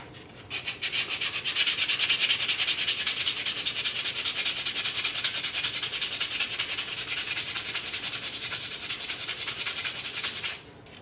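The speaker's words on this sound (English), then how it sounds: "But I do need to sand this edge." Continuous close rasping of sandpaper worked against the edge of a coin ring, a steady scratchy rubbing with quick back-and-forth strokes lasting about ten seconds before it stops, with no voices.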